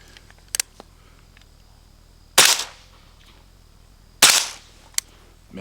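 Suppressed AR-style 5.56 rifle fitted with a Shaw Armament Azimuth GRT 556 suppressor: two distinct, fairly loud muffled shots spaced about two seconds apart, each a sharp crack with a short decaying tail, plus faint clicks and handling noise in between.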